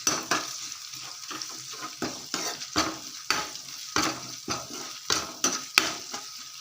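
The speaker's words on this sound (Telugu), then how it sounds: "అల్లం వెల్లుల్లి పేస్ట్ వేసుకోవాలి వేసుకొని ఒకసారి బాగా కలిపేసుకున్నాం" Ginger garlic paste being stirred into drumstick curry in a pan, a steady sizzle broken by a dozen or so scraping strokes of the spoon at an uneven rhythm, close and fairly loud, with no talking.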